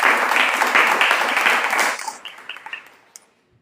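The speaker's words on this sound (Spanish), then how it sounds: "Dele un aplauso al Señor esta mañana" A church congregation applauding during a Sunday sermon, a dense burst of clapping that holds for about two seconds, then thins into a few scattered claps and fades to silence.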